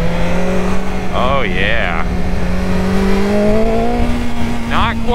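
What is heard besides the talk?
BMW S1000XR motorcycle engine revving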